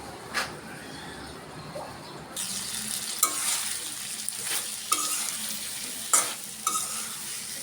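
Potato and eggplant frying in a pan with a constant close sizzle, while a spoon stirs them in periodic scraping strokes and clinks against the pan.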